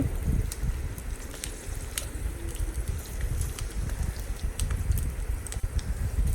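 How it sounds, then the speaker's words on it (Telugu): Green chillies frying in hot oil for tomato pickle, a continuous close crackling sizzle with sharp sputtering pops scattered throughout over a low rumbling background. "ఇలా హీట్ అయ్యాక పచ్చిమిర్చి వేసి మంచిగా దూరగా వేగనివ్వాలి"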